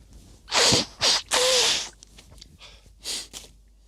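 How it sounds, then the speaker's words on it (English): Several loud, breathy nasal blasts in quick succession, close up, followed by quieter sniffs and snorts. "I need to blow my nose."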